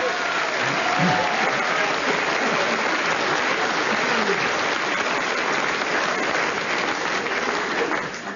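Sustained applause from a live radio comedy panel show audience at Bury St Edmunds, a dense, steady wash of clapping filling the room for over eight seconds, tapering slightly at the end.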